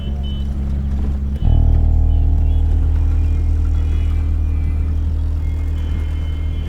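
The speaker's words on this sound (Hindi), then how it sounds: "चल गाड़ी चला, सामने देख।" A car being driven produces a continuous low engine rumble that steps up abruptly and stays louder and fuller after the first second or so, heard from close by with no talking.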